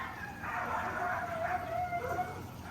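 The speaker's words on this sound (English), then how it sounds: "oh my goodness, the dogs." Several dogs bark and howl in a backyard garden, their voices rising and falling in drawn-out, fairly distant calls that continue steadily without any talking.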